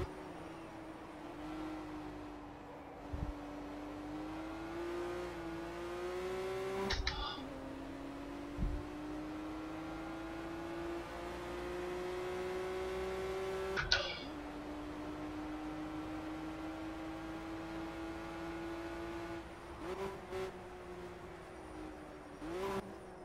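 BMW 1M engine in the Project Cars racing game, droning steadily and rising in pitch through each gear, with three clear upshifts marked by brief drops and pops, engine alone and fairly close.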